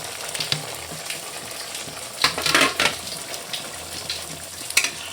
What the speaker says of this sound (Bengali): বাকি ভেজে রাখা বেগুন আর কলাটাও দিয়ে দিলাম।